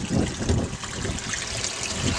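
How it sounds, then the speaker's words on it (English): Water from a bilge pump runs steadily down a homemade gold sluice, its flow spread by carpet matting into a continuous close trickling wash with slight surging, heard alone. "The bilge pump's running. You can see the water running down"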